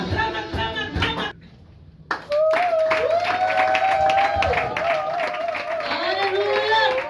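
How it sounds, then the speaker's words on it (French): A church congregation applauding and cheering in a loud, sustained wash of clapping and voices, with a brief quieter gap near the start before the noise swells back. "Acclame, acclame, acclame."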